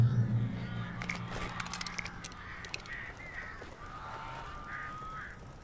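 Birds honking like geese in the game Alan Wake, several harsh calls scattered over a few seconds against a low ambient rumble, with no talking.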